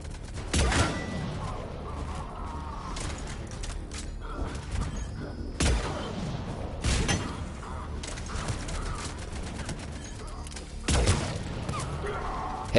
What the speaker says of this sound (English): I'm gonna use my sniper if I ain't got no more bullets.